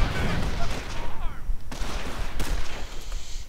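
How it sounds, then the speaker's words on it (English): Rapid bursts of autocannon fire from an armoured car in the real-time strategy game Company of Heroes, loud and close, with a short gap before the firing resumes while a commentator talks over it. "Auto cannon"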